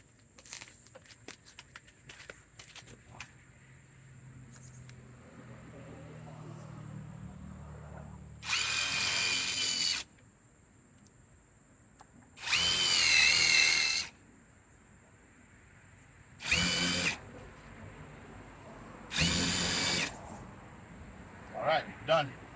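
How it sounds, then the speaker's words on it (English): Power drill drives a bit into a garden hose reel mount in four loud, short whirring bursts, each about a second or two long with pauses between, after some quieter handling noises and low talk. "I'm gonna use this to drill it in."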